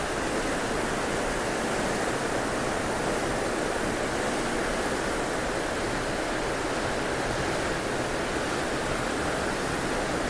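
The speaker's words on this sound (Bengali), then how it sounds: "পানির শুধু শব্দটা একবার শুনেন।" Sea water rushing past the hull of a ship underway in the Gulf of Mexico, a dense continuous roar of churning water that stays loud and steady with no voices.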